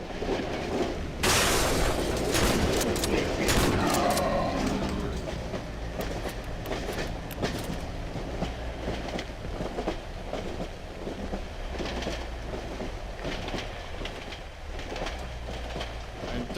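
A train in Cry of Fear rolls along the rails with a loud, continuous rumbling roar and rhythmic clattering that swells sharply near the start, then settles into a steady, dense rattle throughout.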